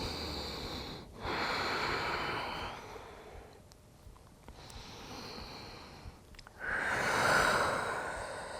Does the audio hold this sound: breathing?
yes